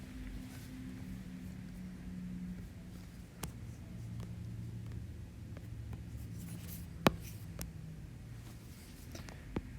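Pen or pencil writing math notes on paper, a faint continuous scratching with a few sharp taps, quiet and close in a still room.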